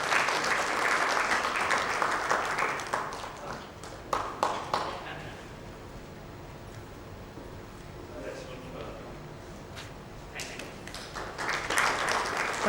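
An audience at an awards event in Mumbai breaks into a round of applause that swells, fades into a quieter stretch with a few stray claps, then builds again toward the end.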